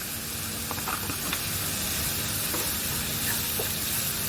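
Onion, ginger and garlic sauté in oil for a Kerala-style roasted-coconut chicken curry, making a dense, continuous close-up sizzle and hiss with occasional faint stirring scrapes.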